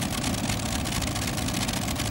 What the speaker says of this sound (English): I love the V12. The Allisons are just awesome. Spectacular engines.